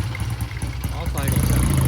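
A white Triumph T120 motorcycle idles close by with a steady low throbbing beat, filling the whole short moment at a fairly loud level.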